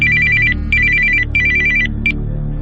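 A phone ringtone plays in four repeating bursts, bright electronic trills with short gaps between them, loud and close with no one speaking.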